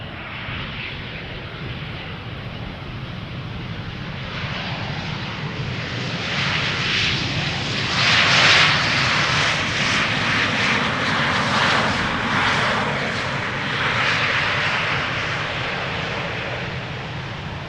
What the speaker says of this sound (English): That is a KLM Embraer 190 arriving from Brussels, flight 1704.